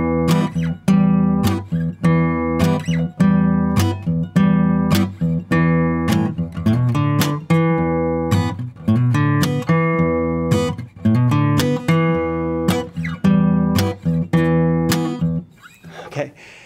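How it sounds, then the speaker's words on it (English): Electric guitar plays a blues riff with slapped muted strings and backhand strums, a steady stream of sharp percussive hits over droning low notes, close and loud for about fifteen seconds. "And now the whole riff with the backhand strum will sound like this."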